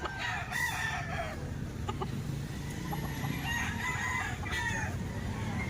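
A Sweater Golden Boy rooster crows at a poultry sale in Lipa, Batangas, in a couple of drawn-out calls with a few clucks, over steady background noise.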